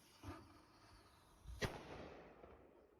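A cannon fires in SoulStone Survivors, a single sharp, loud boom with a long rumbling tail, preceded by a softer thump.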